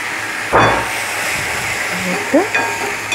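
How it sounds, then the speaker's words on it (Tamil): Curry leaves dropped into hot oil in a pan while cooking bitter gourd pitlai give a steady close sizzle and hiss, with a brief burst of crackling at the start and a few stirring scrapes. "அதுக்கப்புறம் கொஞ்சம் கருவேப்பிலை போடுறேன்"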